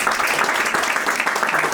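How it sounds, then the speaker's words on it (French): Wedding audience applauding, a dense, steady wash of many hands clapping at close range, continuous and fairly loud throughout. "nous devons applaudir"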